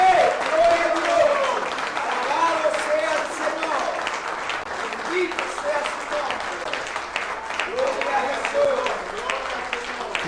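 A crowd applauds loudly with dense clapping throughout, while voices and cheers rise over it at moments.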